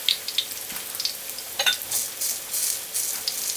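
Banana fritters frying in hot oil give a steady close sizzle with crackling pops and bright spattering bursts throughout, with no talk.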